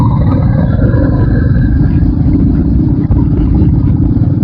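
A loud, close Royal Enfield Classic 350-style old motorcycle engine rumbles with a steady low thumping idle, continuous throughout with no pauses, on a dusty forest road in Joypur, Bankura.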